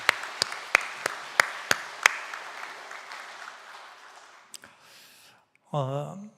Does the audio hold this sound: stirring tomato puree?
no